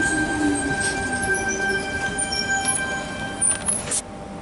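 Sydney train pulling into a station platform at Tempe, with steady rolling rumble, faint squealing wheels and high screeching whines near the end as it slows.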